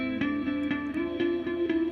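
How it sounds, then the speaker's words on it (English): Electric guitar through a phaser effect on an STL Tone Hub, clean repeated strums about every half second with a gentle whooshing sweep, brief and alone. "Check out the phaser."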